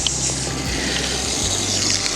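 Steady rushing of water pouring and splashing onto newly transplanted pepper plants in a garden, a continuous broadband wash with a low pump-like hum underneath, no voices.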